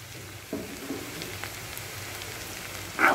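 Ginger and garlic fry with roasted onions in a pan, a faint, steady sizzle with a few soft clunks as they go in and a louder stirring scrape at the end.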